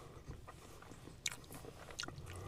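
Close, quiet crunching bites into a crispy fried McDonald's McCrispy chicken tender, a couple of distinct crisp crunches followed by soft chewing.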